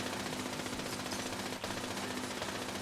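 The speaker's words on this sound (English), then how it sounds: "What is she shooting at?" A companion fires a weapon in Fallout 76, a fast continuous rattle of shots that runs steadily throughout under a constant background hum, with no talking.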